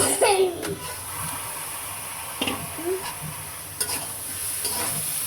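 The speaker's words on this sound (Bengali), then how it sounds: "পেঁপে দিয়ে এইভাবে পেঁয়াজ মরিচ দিয়ে আস্তে আস্তে ভাজে নেব।" Papaya frying in a pan with onion and chili, a continuous sizzle with repeated spatula scrapes and knocks, while a voice and short vocal sounds come through in the background.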